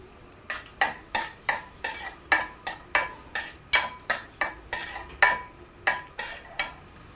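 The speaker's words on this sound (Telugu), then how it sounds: "నెయ్యి మరగాలండి మరిగిపోయింది కదా జీడిపప్పు కిస్మిస్ వేపుతున్నాను" Sharp, regular scraping clacks of a utensil against a pan, about two per second, over a faint background sizzle of nuts frying in ghee.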